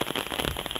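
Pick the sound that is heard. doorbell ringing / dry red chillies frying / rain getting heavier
rain getting heavier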